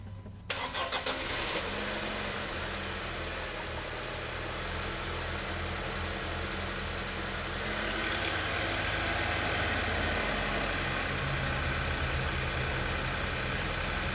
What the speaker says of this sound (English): Now that the car's running,